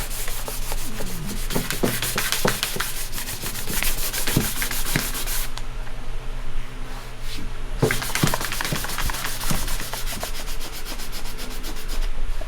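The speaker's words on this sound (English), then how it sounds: "basically just start with your 1200 grit going along all the paint. So basically just sand it as you usually would." Car paint on a body panel being wet sanded with 1200-grit sandpaper during a respray, a continuous close rubbing hiss with irregular strokes and a brief lull midway before the scrubbing resumes.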